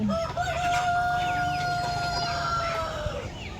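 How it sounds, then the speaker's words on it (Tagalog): A rooster crows in a long drawn-out call nearby on a farm in Tagaytay City, with many other chickens clucking and crowing in the background. "ang daming manok"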